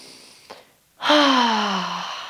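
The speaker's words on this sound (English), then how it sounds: "Maybe take a few cleansing breaths, really trying to release your exhales out through your mouth." During a gentle yoga session, a brief soft inhale is followed by a long, audible cleansing breath pushed out through the mouth. It starts strong, fades slowly and has a faint voiced, sigh-like tone. No words are spoken.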